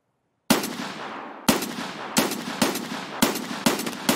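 Gunfire during a raid on the Shoreline map in a shooter game: sharp, loud shots crack out one after another at uneven intervals, about seven in four seconds, each leaving a short echoing tail.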